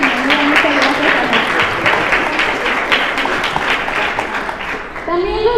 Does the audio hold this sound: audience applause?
yes